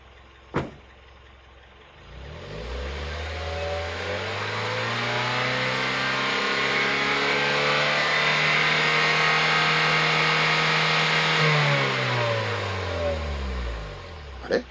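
A car fitted with an aftermarket inspection-legal muffler is revved for a close-range exhaust noise test from behind the tailpipe. The engine climbs to a loud, steady high rev, holds for about ten seconds, then drops back, with a sharp click at each end.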